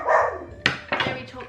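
A pet dog barks close by, a few sharp yips and barks in quick succession after a brief breathy sound.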